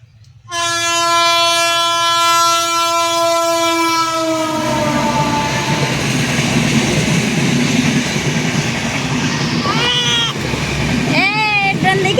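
A train sounds a long, loud horn and then rumbles past close by, its rolling clatter continuing steadily, while a voice and a voice are heard over the noise near the end.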